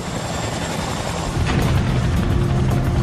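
A Chinook helicopter climbing gradually toward a mountain, its steady rotor and engine roar loud and continuous, with a heavier thumping surge midway through.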